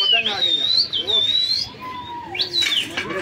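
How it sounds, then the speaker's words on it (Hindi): Pigeons in a Hyderabad loft, with high whistling calls and soft cooing gliding up and down close by, over a busy rustling background. "ये आ गए फिर से कबूतर"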